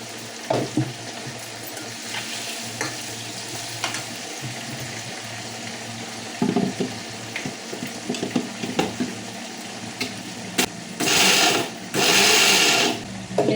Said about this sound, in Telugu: చింతపండు నేను ఉడకబెట్టట్లే, నానబెట్టట్లే, దొడ్డుప్పులా వేసి మిక్సీ పడుతున్నా